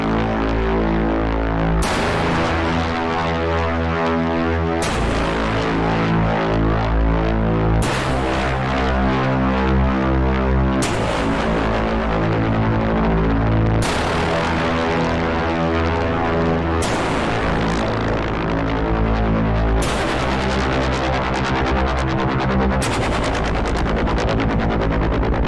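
Synth pad or bass driven through the Coda Labs Szechuan Saturator plugin, sustained saturated chords changing about every three seconds, thick, buzzy and evenly loud throughout with no voices.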